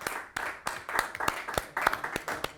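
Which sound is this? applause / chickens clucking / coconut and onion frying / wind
applause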